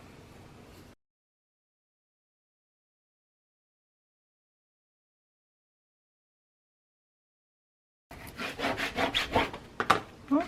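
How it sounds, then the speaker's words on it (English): Book binding tape is pressed down onto a chipboard cover. After a long silence, a short burst of close, dry rubbing and scraping is heard. "So then I'm going to grab my inch tape and put down here."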